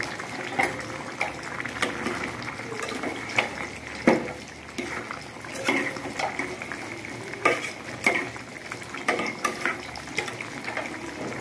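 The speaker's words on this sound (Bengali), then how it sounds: "এখন মাংসটা একটু নেড়ে চেড়ে দিব।" Meat being stirred in a cooking pot, with repeated irregular scrapes and clacks of a spoon against the metal over a soft background sizzle, close and moderately loud, no speech.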